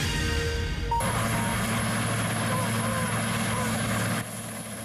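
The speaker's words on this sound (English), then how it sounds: "The Royal Canadian Air Force helicopter delivered the CFL's championship trophy today." A Royal Canadian Air Force helicopter thrums steadily, its engine and rotor roaring loud and continuous, with a high whine throughout, as it delivers a championship trophy in Vancouver; no speech is heard.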